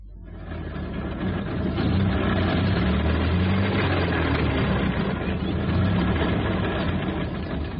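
A car engine runs steadily after being jump-started with long leads from another car's battery, a continuous low rumbling drone that holds an even level throughout with no voices.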